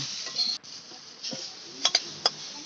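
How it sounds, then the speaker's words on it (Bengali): Three pieces of pumpkin and some beans frying lightly in oil in a pan, a steady soft sizzle broken by a few sharp utensil clinks against the pan, close by with no talking. "ওই তেলের উপর আমি তিন টুকরো কুমড়ো আর বিনসটা হালকাভাবে ভেজে নেব"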